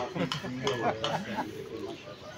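Soft, throaty cooing of pigeons close by, a few rolling calls in quick succession.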